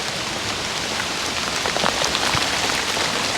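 Steady rain beats on the ground around a pond under construction, a dense, even hiss with the odd nearer drip ticking through. Nobody speaks.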